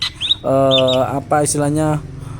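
A caged jalak suren (black-collared starling) sunning outdoors gives loud, close, harmonic whistling calls: a short chirp, then a long sustained note, a brief break, and another long note.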